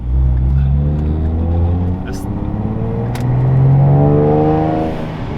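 A Chevrolet Impala fitted with a blow-off valve revs hard up close, its engine rumble climbing and falling twice, with short sharp whooshes between pulls.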